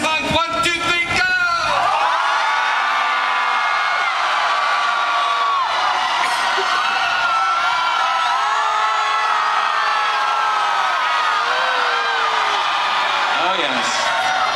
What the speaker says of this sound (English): scream like you're being swallowed by a whale